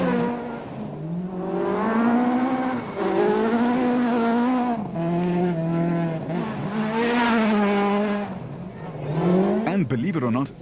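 Rally cars on a Volkswagen Rally stage in 2005, engines roaring and revving loudly through repeated rising and falling gear changes, close to the microphone, with a burst of harsher noise at the end.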